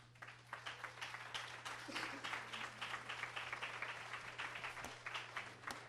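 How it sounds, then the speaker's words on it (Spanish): A church congregation applauds, a steady wash of many hands clapping for several seconds under a low hum, fairly distant and moderate in level. "Den un aplauso al Señor, hermano."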